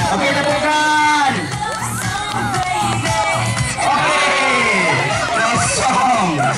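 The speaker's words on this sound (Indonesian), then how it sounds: "Okey, tepukan." A game-show audience, including children, claps, cheers and whoops in a lively, continuous burst, with loud overlapping voices and shouts throughout.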